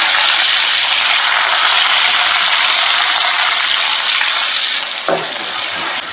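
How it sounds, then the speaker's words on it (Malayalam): Mustard seeds, chopped shallots and curry leaves fry in hot oil with a loud, close, continuous sizzle that eases slightly near the end, with a brief clatter. "അതിലേക്ക് ഞാൻ കുറച്ച് കടുക്, 1/4 ടീസ്പൂൺ കടുക് ഇട്ട് കൊടുക്കുകയാണ്."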